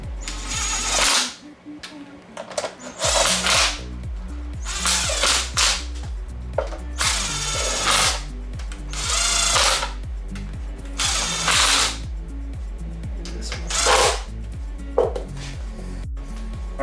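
Rapid bursts from a power tool fastening the timing belt cover onto a Mitsubishi 4G63 engine in an EVO 9 build, loud close whirring pulses repeating in short runs with pauses between them.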